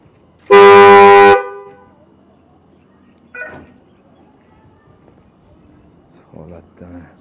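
A 1996 Damas car at a used-car market in Namangan gives one loud, steady horn blast lasting about a second, followed by faint background noise and brief bits of distant talk.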